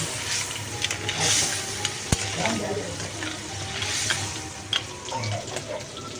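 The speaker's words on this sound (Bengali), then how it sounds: "কাঁকড়া দিয়ে দিতে হবে কাঁকড়া দিয়ে দিই তবে শুকনো শুকনো করে নামিয়ে নেব" Crab fries in spiced masala in a pan, giving a steady close sizzle with occasional stirring clinks and scrapes.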